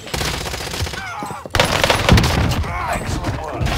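Rapid PPSh-41 submachine gun bursts fire in the video game Warzone, loud and dense with a brief gap partway through; a voice speaks over the gunfire.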